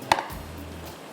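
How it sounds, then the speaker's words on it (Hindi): A kitchen knife chops ingredients finely on a board while preparing the tarka for an achari mutton masala; one sharp, crisp chop lands near the start, followed by quiet kitchen background. "तो पहले इसको मैं बारीक बारीक चॉप कर लेती हूँ।"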